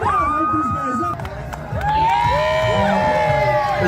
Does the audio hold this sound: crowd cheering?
yes